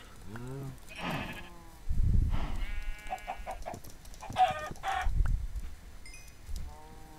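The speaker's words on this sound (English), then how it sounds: "That's a chicken." Clucks and short calls from a chicken in the Minecraft video game, several brief bursts spread across the stretch, mixed with other animal-like game sounds and a person talking.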